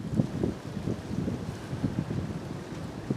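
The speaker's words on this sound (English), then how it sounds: "This wind has been relentless." Strong, relentless wind blows outdoors on a snowy day, a continuous low rumbling buffet with gusty pulses, close and loud against the microphone, with no voices.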